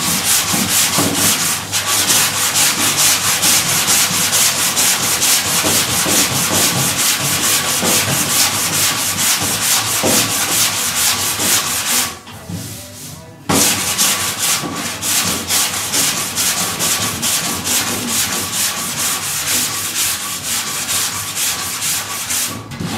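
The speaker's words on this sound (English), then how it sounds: "We've got the Jura block sander, which does a great job on the straight panels." A Jura block sander rubs continuously across a straight steel panel of a Triumph Herald Coupe, loud and close, a rhythmic abrasive scratching with a short pause midway before it resumes.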